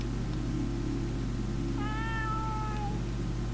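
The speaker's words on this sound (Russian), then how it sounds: "Котик. Зубар, корабельный кот." Ship's cat Zubar in the game Space Pilgrim gives one clear drawn-out meow, close and alone over a steady low background hum.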